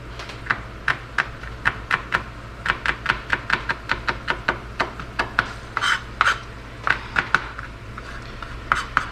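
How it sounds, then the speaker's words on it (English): A kitchen knife is drawn repeatedly across a sharpener, giving a steady run of quick, dry scraping strokes, close and fairly loud, with no talking. "I need to sharpen this knife."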